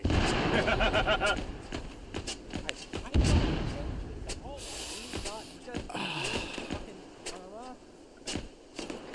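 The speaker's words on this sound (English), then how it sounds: "Nice flashbang" In a military game of ARMA 3, a flashbang grenade detonates with a sharp thump amid scattered gunfire and impacts, while several players talk over radio throughout.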